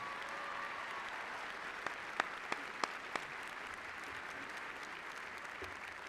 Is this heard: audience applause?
yes